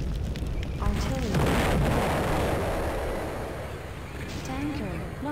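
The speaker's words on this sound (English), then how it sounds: "Artillery." Artillery fire in the video game A.R.S.E.N.A.L Extended Power booms and rumbles in a dense, sustained barrage with scattered explosions, while voices speak over it.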